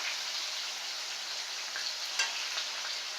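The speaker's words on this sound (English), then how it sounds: "See how fast they fry up when you cut them thin like that?" Thin-cut chicken pieces fry with a dense, even sizzle that holds steady throughout, broken by a couple of faint ticks and pops.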